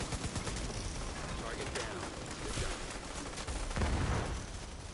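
Video game gunfire from The Division 2, rapid automatic bursts blending into a dense, noisy wash of shots and effects at moderate level.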